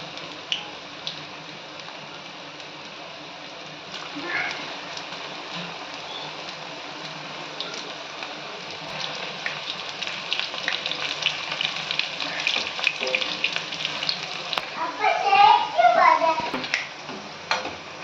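Lady's finger pieces frying in hot oil give a steady crackling sizzle all the way through, and it grows louder and busier toward the end as the pieces bubble. Heard close up, with no talking.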